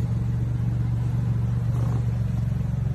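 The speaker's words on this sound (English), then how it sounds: "He's gonna rev it in just a second." Maserati MC20 supercar engine running with a steady, loud low rumble and a slight rise in revs, no talking.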